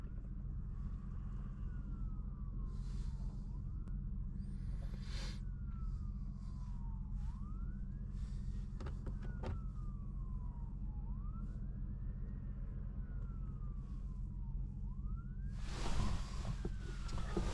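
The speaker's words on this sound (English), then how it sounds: "They're coming lights and sirens, baby." Wailing emergency sirens from an ambulance responding on a rural road sweep up and down repeatedly, faint and distant at first over a steady engine rumble, with brief clatters and a louder burst near the end.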